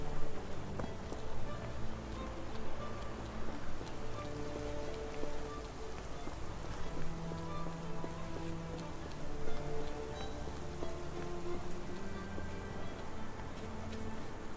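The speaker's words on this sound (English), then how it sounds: "This dreary rain is making a miserable day even worse." Dreary rain falling steadily on surfaces, a dense continuous patter of drops with a faint background hum, fairly close and even in loudness throughout.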